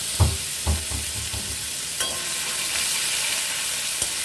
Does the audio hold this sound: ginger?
yes